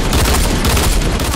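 Dual pistols firing in Fortnite, a loud, dense burst of rapid overlapping shots packed into barely over a second, harsh and close.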